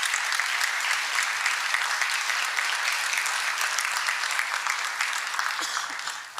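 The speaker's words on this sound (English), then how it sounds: "let's have a round of applause at this point" Audience at an Alaska gubernatorial candidate forum breaks into sustained applause, a thick wash of many hands clapping at an even, fairly loud level that thins and fades away at the very end.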